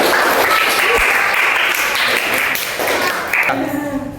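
Students in a classroom give a short burst of applause, many hands clapping together in a steady patter that fades out toward the end.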